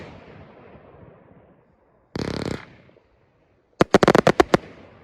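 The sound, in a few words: Dark Spirits firework by Prestigious Pyrotechnics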